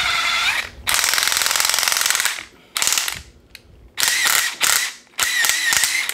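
Milwaukee M12 2553 impact driver driving a fastener at low speed, loud and close in several bursts of rapid ratcheting impacts with short gaps and brief pauses between them.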